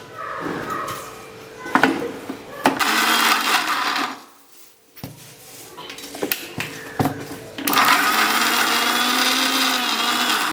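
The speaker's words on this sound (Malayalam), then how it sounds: "ഉള്ളി വെളുത്തുള്ളി പച്ചമുളക് ഇഞ്ചി ഇതെല്ലാം ഒന്ന് ചതച്ചെടുക്കാം" Electric mixer grinder crushing onion, garlic, green chili and ginger, running in loud whirring bursts separated by brief pauses and knocks, with occasional kitchen clatter.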